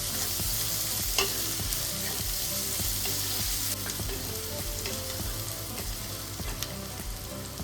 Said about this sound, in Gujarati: અને લસણ, આદુ અને લીલું મરચું એડ કરશું. બે મિનિટ છે ને આને સાતરી લઈશું આપણે સરસ